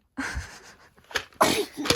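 A child sneezes several times in a row indoors, sharp close bursts with breathy gasps between them.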